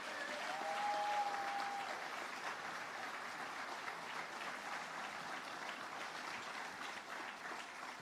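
Steady audience applause at a Florida state broadband funding announcement with Governor DeSantis, a dense, even wash of clapping from a crowd that holds fairly constant throughout and fades slightly toward the end, with no voices.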